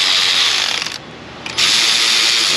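A hand ratchet clicks rapidly while running down bolts on a Chrysler 200 3.6 Pentastar engine, loud and close, with a brief pause midway before the clicking resumes.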